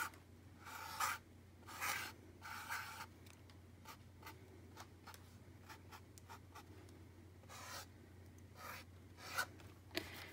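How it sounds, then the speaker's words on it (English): A marker drawing a small flower on a Dollar Tree tray: quiet squeaky scratching strokes in short bursts with pauses between, close up against a low steady background hum. "So I'm just gonna take my marker and I'm gonna maybe I'll just draw a little flower here."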